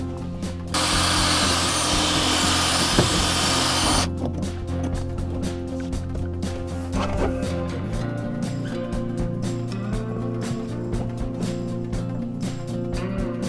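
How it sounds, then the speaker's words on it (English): A power drill bores holes in a Sprinter van floor, a close high grinding burst in the first seconds followed by steady tool and handling noise. "I need to drill 2 holes here before I can place the mat back down"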